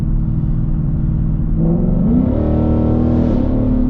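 A Ford Mustang in drag mode revs hard through a paddle-shift gear change, its loud, close engine note holding steady and then climbing and wavering as the gear engages.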